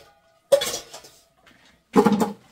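Dishes and pots being washed give two separate bursts of clattering and clinking at close range, with quiet between them.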